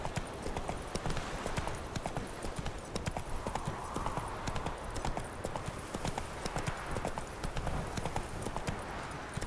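Roach the horse gallops in The Witcher 3, hooves clip-clopping in a fast, steady, continuous rhythm, close and fairly loud over a dense outdoor ambience.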